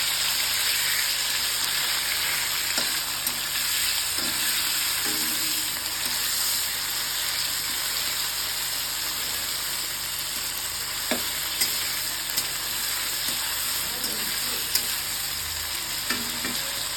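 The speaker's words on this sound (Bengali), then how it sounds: "তার আগে দিয়ে নেবো একটু টমেটোটাকে একটু সাঁতলে নেব তেলের মধ্যেই।" Two large tomatoes sautéing in hot oil for vegetable khichuri, a steady continuous sizzle with occasional soft stirring scrapes and pops, close and alone without talk.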